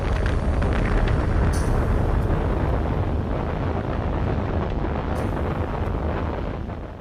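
Regulus missile launched from the nuclear-powered submarine Halibut, built in 1959, a loud broad rushing roar that holds steady and slowly fades, with a few faint higher clicks over it.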